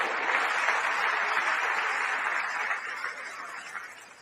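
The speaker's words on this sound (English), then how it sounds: "they stand and clap for it" A political audience stands and applauds a speech, filling the hall with loud sustained clapping that gradually thins and fades toward the end.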